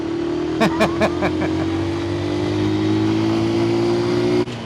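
A 125cc motorcycle accelerates through the gears in city traffic, its close, droning engine rising steadily after a quick run of short revving pulses, then cutting off abruptly near the end.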